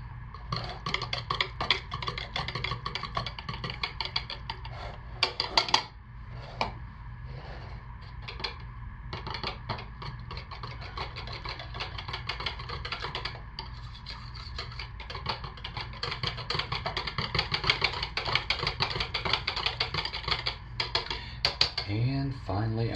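Mica colorants are stirred into cold process soap batter, a repetitive scraping and clinking of a utensil against a container, close and continuous with brief pauses.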